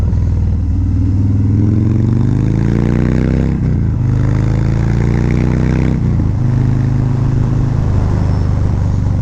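A 2018 Harley-Davidson Fat Bob 114 motorcycle is ridden on the road. Its loud, close engine drones continuously, with rising and falling pitch through gear changes and two brief dips where the throttle eases. Wind rushes underneath throughout.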